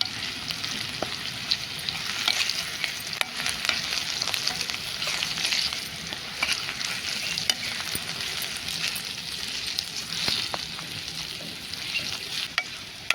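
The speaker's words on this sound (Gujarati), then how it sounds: "તો મિત્રો ડુંગળી આપણે સરસ રીતે સોતે કરવાની છે" Onions sauté in a pan with steady sizzling and frying, broken by frequent scrapes and clicks of stirring, close and continuous.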